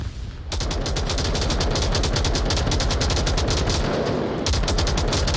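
M249 box-magazine machine gun fire in a video game, long continuous bursts of rapid, loud shots, with a brief break near the end before firing resumes.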